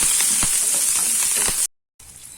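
Small onions and curry leaves sautéing in hot oil for a hotel-style tiffin sambar, a close, steady sizzle with faint stirring taps, then a brief drop to silence before the frying resumes more quietly.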